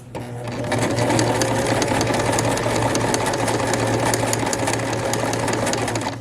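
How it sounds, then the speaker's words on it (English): Close, loud sewing machine running continuously as it stitches forward along a seam to mend a hole, a steady rapid rattling hum that holds an even pace throughout without any speech. "Begin with a back stitch and then go forward."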